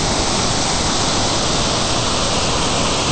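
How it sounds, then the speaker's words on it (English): Grotto Falls, heard from the far side of the creek, pours as a steady, loud, dense roar of falling water with no break or variation throughout. "Here's Grotto Falls from the other side of the creek."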